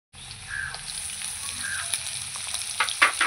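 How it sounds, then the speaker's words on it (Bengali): Onion and potato frying together in a pan, a steady close sizzle with faint crackles and a few stirring scrapes near the end, no talk. "এর সঙ্গে ভেজে নেব পেঁয়াজটা"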